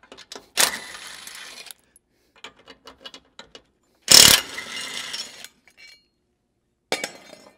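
A 17 mm socket wrench loosening bolts under the rear bumper of a Toyota 4Runner: several sharp metallic clunks and bursts of quick ratcheting clicks, close and fairly loud, with pauses between them and no talking.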